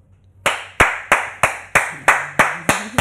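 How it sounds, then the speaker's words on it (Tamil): One person claps hands alone, eight sharp, evenly spaced claps after a brief quiet start, close and distinct with no talking. "உங்கள் சார்பாக நான் இந்த கைத்தட்டல்களை உருவாக்கிறேன்."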